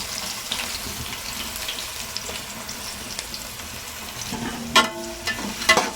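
Onions, green chillies, garam masala and cinnamon frying in a pan for veg pulao, a steady close sizzle with a few sharp clinks and stirring knocks near the end.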